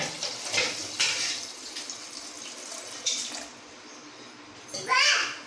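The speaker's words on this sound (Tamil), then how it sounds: "இதுக்கு தேவையான தண்ணி ஊற்றிக்கலாம்" Water pours into a pot while village-style radish mutton curry is cooked, a splashing rush in several bursts with a voice faintly in the background.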